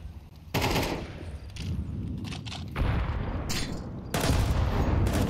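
Grenade blasts and automatic rifle fire in a Counter-Strike match, heavy booming bursts alternating with rapid gunshot rattles, loud and close, with no voices over them.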